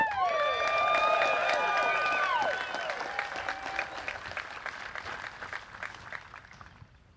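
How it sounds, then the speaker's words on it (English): Spectators at a women's disc golf tournament at Elver Park in Madison, Wisconsin, break into loud whoops and cheers that settle into sustained applause and clapping, fading gradually toward the end. "the locals are out today cheering on the ladies"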